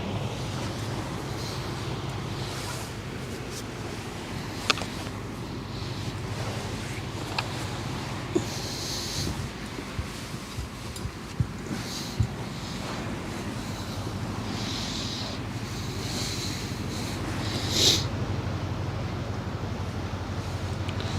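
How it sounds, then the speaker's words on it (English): Strong wind blows by the sea along the Westerschelde shipping channel, a constant, loud buffeting rush with gusts, surf wash and occasional knocks, with no voices. "it's super windy"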